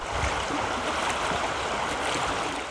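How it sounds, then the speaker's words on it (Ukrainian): Rushing water around a wooden barge drifting down a flooded river, a constant broadband wash with faint splashes against the hull, close and steady with no voices. "На пошуки староста з човнярем сплавляють цей дерев'яний баркас"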